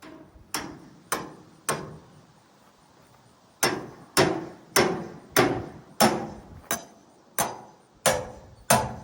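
Rebar is hammered in to anchor a shelter: three sharp metallic strikes, a pause, then a steady run of about nine more evenly spaced blows, close and loud.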